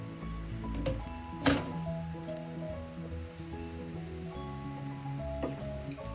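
Green beans sautéing in a covered pan over low flame for a Kerala mezhukkupuratti, giving a steady close sizzle throughout with a brief louder clatter of the lid or spoon near the start; no one speaks.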